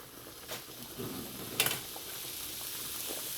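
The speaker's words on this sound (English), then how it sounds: "we have a pound of hamburger meat here. Go ahead and put that in our pan" A pound of partly frozen hamburger meat sizzles faintly in a pan, a steady low hiss with a short clatter partway through.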